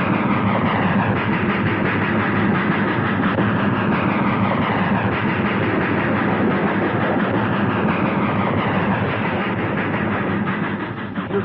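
Train passing at night in Nevada, a steady loud rumble of rolling cars with rhythmic clickety-clack from the wheels, sustained for over ten seconds and easing slightly at the end.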